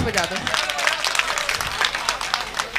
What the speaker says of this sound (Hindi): अगर गीत सुनना है तो एक बार जोरदार ताली बजा दो।